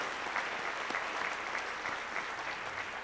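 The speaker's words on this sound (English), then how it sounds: "So a round of applause for them and for everyone at HCPS who put this together." Steady applause from an audience at a school-system education excellence celebration honoring HCPS staff, a dense, even wash of clapping lasting throughout with no pauses.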